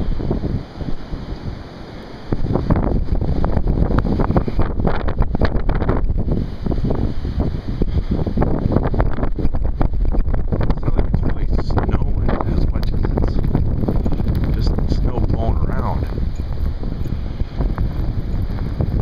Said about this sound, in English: the thing that's really neat is just the amount of wind